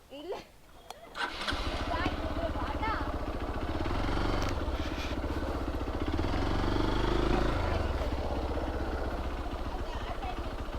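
Motorbike engine near Sullia chugging steadily at close range after a brief start-up, running continuously at idle-like revs for several seconds as the rider pulls up to park, with faint voices at times.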